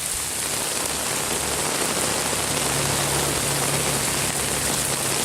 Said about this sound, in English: there's no thunder, it's just a rainstorm